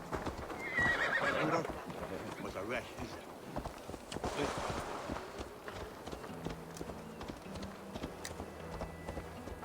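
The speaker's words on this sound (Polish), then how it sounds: "Pewnie to był koń tego gościa." A horse gallops with rapid clip-clop hoofbeats and lets out a loud neigh in Assassin's Creed Valhalla, heard under ongoing spoken commentary.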